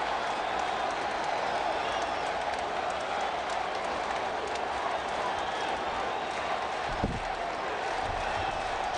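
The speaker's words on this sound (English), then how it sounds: "This crowd is right back into it." Mets crowd at a baseball stadium roaring and cheering in a continuous wall of noise, with a broadcaster's voice faintly underneath and a brief thump near the end.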